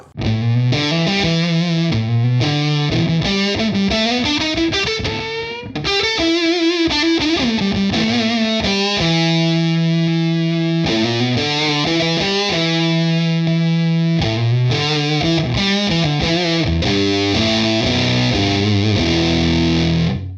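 Heavily distorted electric guitar through a distortion pedal, EQ'd toward a neck-pickup tone on the bridge pickup, plays a loud, continuous run of riffs and sustained chords with a warm, rounded tone, and no voices throughout.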